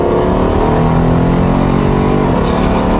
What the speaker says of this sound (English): Okay, so we're accelerating.